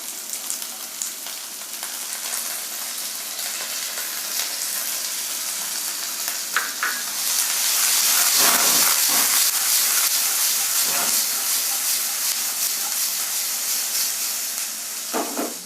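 Potatoes and onions frying in a pan of oil for kanda poha, a steady close sizzle and hiss that swells louder midway, with occasional stirring clinks and no talk.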